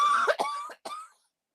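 A few stifled coughs close by, short bursts followed by silence.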